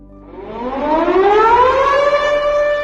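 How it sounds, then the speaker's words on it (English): An air raid siren at Pearl Harbor winds up, its wailing tone climbing steadily in pitch and swelling to a loud, sustained blare with no voices present. "the sound of an air raid siren pierced the air."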